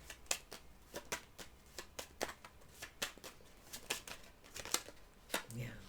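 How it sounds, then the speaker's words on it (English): A deck of tarot cards being shuffled by hand, quiet and close, in a run of short riffling bursts at an uneven, roughly steady rhythm with no talk over it. "Let me fix that so I don't see the cards as I'm shuffling."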